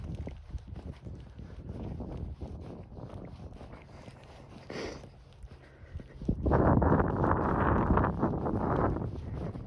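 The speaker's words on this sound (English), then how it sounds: "It gets a little bit windy as you're climbing uphill." Wind buffets the microphone with low rumbling gusts while climbing uphill on the Finch Hydro Corridor in North York, swelling louder toward the end, over a faint background drone.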